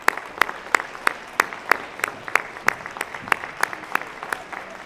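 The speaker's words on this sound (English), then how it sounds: "Let's give them another round of applause." Applause for a high school chamber choir at a youth awards ceremony, heard as a small audience clapping at a steady rhythm, with sharp separate claps standing out above a thin wash and no voices.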